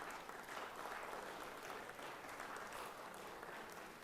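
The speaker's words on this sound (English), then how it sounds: "Let's give them a round of applause today" A crowd in the Georgia Senate chamber claps steadily throughout, a dense, even patter of applause heard from a distance at low volume.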